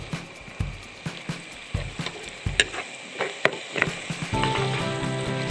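Green chillies and curry leaves dropped into onions frying in oil, a steady sizzle punctuated by repeated spoon scrapes and taps against the pan, with a louder burst of crackling toward the end.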